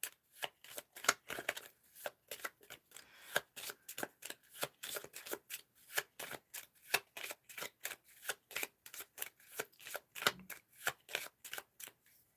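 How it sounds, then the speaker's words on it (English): Playing cards are riffle-shuffled over and over for a solo board game session of Friday, a steady series of crisp, close riffles in quick succession with no talking. "We're going to shuffle everything up."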